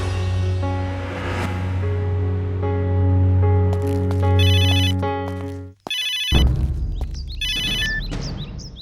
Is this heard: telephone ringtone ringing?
yes